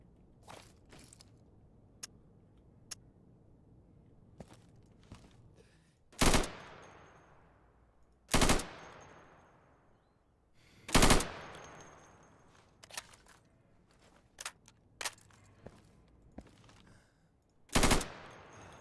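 Loud gunshots from rifles and a machine gun in the video game Insurgency, fired at targets through plywood on a practice range: five sharp, separate blasts, the first two rippling into short bursts, with scattered softer clicks and taps between them.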